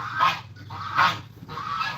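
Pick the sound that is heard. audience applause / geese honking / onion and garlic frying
geese honking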